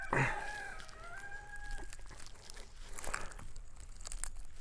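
Bullets being torn out of a block of ballistic gel after firing a Winchester 53 chambered in 25-20 WCF, heard as close, faint rips and crinkling tugs in a quiet room, with a brief high squeak at the start.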